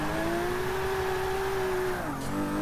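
A BMW M1's engine in Forza 6 holds a loud, steady, high-revving drone for about two seconds, then its pitch dips abruptly as if shifting or lifting off, settling into a slightly lower whine.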